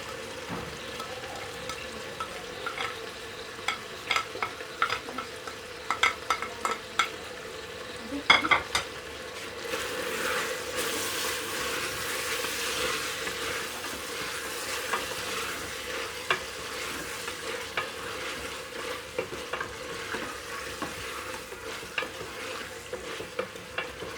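Mutton frying in a pan with red chilli, turmeric and salt while being stirred: a soft steady sizzle with scattered scraping and clinking strokes of the spoon against the pan.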